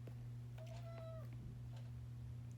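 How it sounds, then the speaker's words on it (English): One drawn-out cat meow, faint and rising then falling, over a steady low electrical hum. "Hello, cat."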